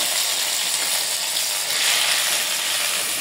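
Bottle gourd pieces sizzling in hot ghee with bay leaves and cardamom in a pan, a steady, bright frying hiss that holds evenly throughout with no voices.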